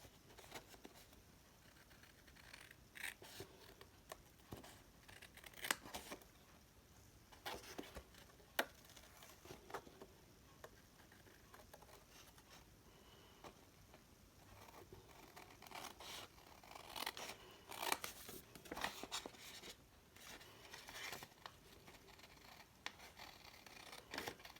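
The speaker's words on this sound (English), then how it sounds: "Take our paper snips and we'll cut this out." Paper snips cut out a paper piece during card making, a long run of faint crisp snips and rustling scrapes in irregular bursts, with no talking.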